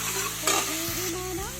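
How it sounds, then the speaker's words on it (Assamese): Ginger-garlic paste frying in a pan while being stirred, a steady close sizzle with a brief louder scrape partway through and soft spoon movements, no voices. "ভালকৈ আদা নহৰু কেঁচা গোন্ধ যোৱালৈকে ভালকৈ মছলা ওলোৱালৈকে ভাজি ল'ম"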